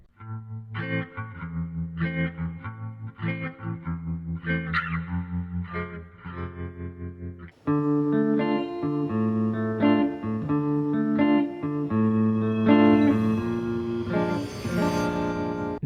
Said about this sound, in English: we hear the classic RVB intro play, however with a new rendition of it